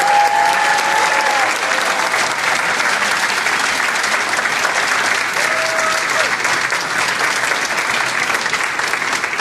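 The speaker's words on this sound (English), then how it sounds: "I want you guys to applaud again." An audience at a social media marketing training session bursts into loud, sustained applause, dense and even clapping filling the room for several seconds with a faint murmur of voices beneath.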